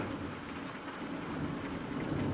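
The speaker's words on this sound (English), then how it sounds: "He froze, heart racing, waiting for the storm to come." Steady heavy rain pours down with low rumbles of thunder underneath, a dense continuous wash of sound.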